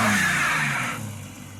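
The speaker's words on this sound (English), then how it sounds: "Okay, starting the car." A car engine running with a steady low hum and a brief revving rise, then settling to a quieter idle; close and fairly loud, with no talk.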